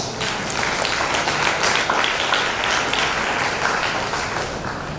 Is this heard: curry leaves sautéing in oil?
no